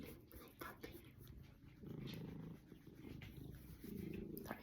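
A cat purrs close by, a soft, quiet rumbling that swells in a few longer bursts with faint rustling between them.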